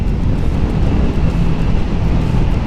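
Wind buffeting a rider on a windscreen-less Triumph Speed 400 naked motorcycle at about 80 on an expressway, a loud, constant low roar of rushing air against the microphone.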